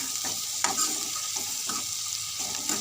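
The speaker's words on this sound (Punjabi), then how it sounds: "ਆਪਾਂ ਹੁਣ ਥੋੜੀ ਦੇਰ ਪਿਆਜ਼ ਚ ਭੁੰਨ ਜਾਣਗੇ ਜੀ" Onions frying in a pan for a ridge gourd curry, a steady close sizzle with soft scraping stirs at intervals, no voice over it.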